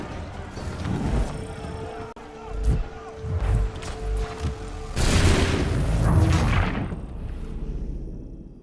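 Cannon booms and musket volleys ring out in Assassin's Creed 3, heavy blasts landing in bursts with a big sustained barrage midway, under shouted battlefield orders.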